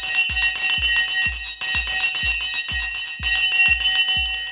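A bell rung to open a live stock market session clangs in a rapid, loud, repeated ringing, with bright metallic strikes in quick even rhythm that pause briefly and resume, close and clear with no talk.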